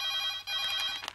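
A telephone rings with a bright, trilling electronic tone, quiet and brief and heard alone.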